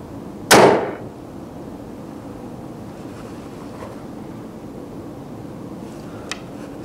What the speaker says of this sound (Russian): Арбалет готов к выстрелу.